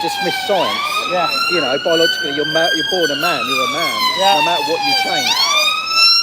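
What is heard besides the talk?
ambulance siren going past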